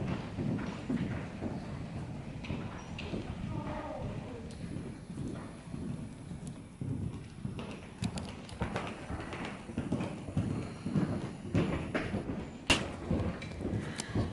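A ridden horse walks in a circle in a riding arena, its hooves clip-clopping in a steady, muffled rhythm close by, with wind and faint rustling around it.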